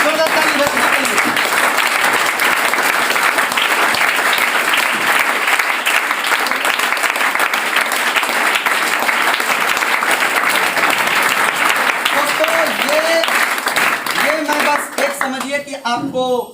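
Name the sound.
audience giving loud applause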